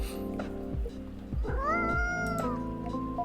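A cat meows loudly and close, one drawn-out rising cry over a steady mechanical hum.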